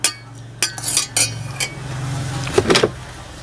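Sliced pork for Thai nam tok being stirred and dry-roasted in a pan, with sharp utensil clinks and scrapes in irregular bursts over a low, steady background.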